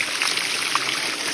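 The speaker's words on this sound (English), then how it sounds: "Let's go up this side of the waterfall." Steady broadband rush of a stream and waterfall at the sticky waterfall near Chiang Mai, Thailand, a continuous close wash of flowing water with no talk.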